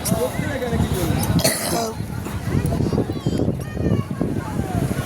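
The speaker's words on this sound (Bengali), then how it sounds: "খুব কাশিটা বেড়ে গেল তোর।" Someone coughs and clears their throat a few times amid people talking outdoors on a seashore, with wind buffeting the microphone.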